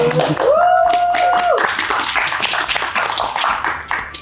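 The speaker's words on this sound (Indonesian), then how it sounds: "Boleh dong dikasih tepuk tangan dulu" A group claps hands in scattered applause after a brief tone at the start, clapping continuing and tapering off.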